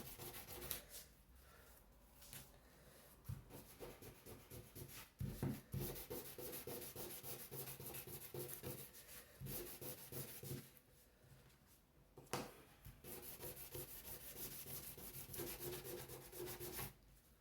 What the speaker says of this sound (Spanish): Va a poder lijar la parte de la esquina.